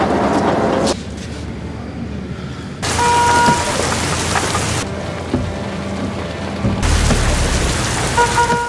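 Heavy rain pours steadily in a dense hiss, cutting between louder and softer stretches, with low rumbles underneath.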